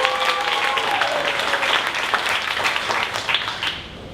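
An audience at a 1 Million Cups startup pitch event in Dallas applauds the Travabond team, steady dense clapping from a sizable crowd throughout, with a few faint voices mixed in.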